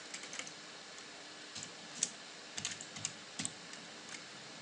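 Someone types a keyword on a computer keyboard: a handful of quiet, irregular keystroke clicks in short clusters against a faint background hum.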